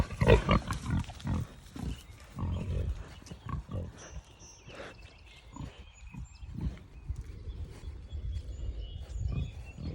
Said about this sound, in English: Shoo, pig.